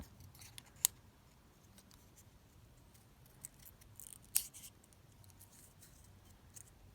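Scissors snip through paper during collage journal-card crafting, a few sharp isolated cuts, close and quiet, with soft handling rustle between them and no talk.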